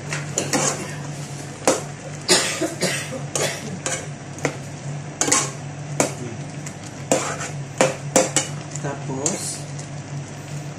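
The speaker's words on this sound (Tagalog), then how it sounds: "Haluin ko lang." A spoon stirs vegetables and fish in a cooking pot for a Filipino denengdeng, with repeated sharp metallic clinks and scrapes against the pot over a low simmering hum.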